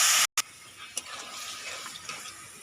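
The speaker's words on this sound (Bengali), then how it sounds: "অল্প করে একটু জল দিয়ে দিলাম।" A little water poured into a cooking pan while making a Bengali banana-stem (thor) ghonto with green chillies, a short hissing splash against a hot pan followed by a soft, steady sizzle.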